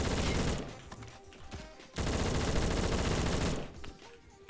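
Gunfire from players shooting in the Roblox video game: dense, rapid bursts of automatic fire crackle almost continuously, dropping out briefly twice before resuming, with no talk over it.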